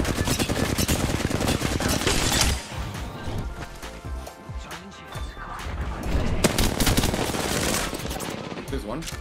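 Dense, loud automatic gunfire in a busy Apex Legends battle, with rapid sustained volleys, a brief lull midway, then heavy firing again, close and continuous.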